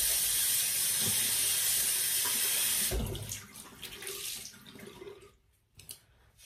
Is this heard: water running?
yes